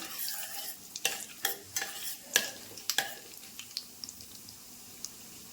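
Tempering spices splutter in hot oil inside a cooker, bursting in a flurry of sharp crackling pops that grow sparser and quieter over a few seconds.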